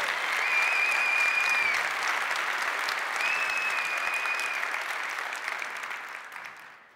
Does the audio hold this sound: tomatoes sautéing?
no